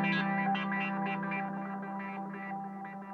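A Pulsar clav synthesizer patch run through a delay pedal plays a sustained funky keyboard figure, rhythmic pulses with echo and chorus-like shimmer, close and steady with no voices.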